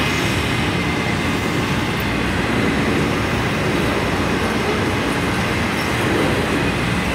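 Train rumbling past on the tracks beside a station bench, a loud continuous roar of rolling wheels with faint rail squeal, sustained and close for the whole stretch.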